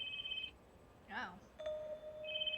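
In the video game Secrets of Kubitarou: Spirit Hunters, a phone rings with a steady electronic tone that stops and starts again. The ring is faint and mid-distance, and a brief vocal sound cuts in between the rings.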